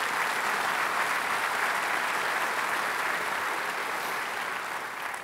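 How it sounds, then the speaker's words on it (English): An audience at the 2017 State of the Port presentation breaks into steady, dense applause that stays loud and even throughout, fading slightly at the very end, with no voices over it. "Let's give him a round of applause."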